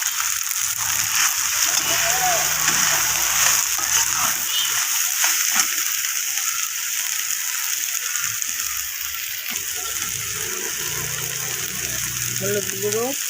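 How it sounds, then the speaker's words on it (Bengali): Soybean chunks frying in hot oil in a pan, a steady loud sizzle and crackle that runs throughout, close up, with faint voice sounds mixed in. "এখন আমি ওই তেলে সয়াবিনটাকে ভেজে নেব"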